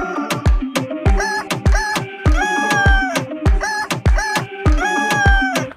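A chicken clucks loudly and close by in a rapid series of sharp, throaty calls, about two each second, with no talking over it.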